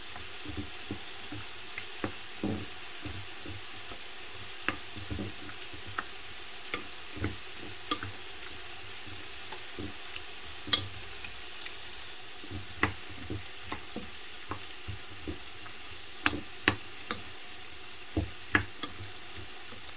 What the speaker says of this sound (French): Et là, je verse les pâtes. Je mélange le tout.